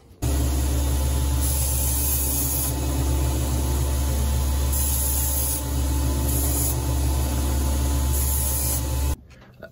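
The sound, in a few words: 400 grit sanding belt rounding knife corners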